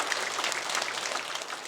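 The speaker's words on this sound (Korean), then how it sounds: "처음 오신 분들 박수라도 한번 쳐주셔" A church congregation at a Sunday service claps for newcomers, producing a steady, dense wash of many hands clapping. The applause is moderately loud, continuous and even throughout, with no voices.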